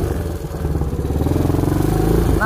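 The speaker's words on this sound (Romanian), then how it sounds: "Băi, dar ce merge motorul ăsta," An ATV engine running off-road, a loud, close, continuous rumble with a pulsing throb that rises slightly in pitch as it revs, with no talk over it.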